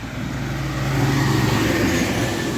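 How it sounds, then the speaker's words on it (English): Steady roar of passing road traffic, a continuous broadband rumble that swells slightly midway, fairly close. "It's a pretty busy road to my right."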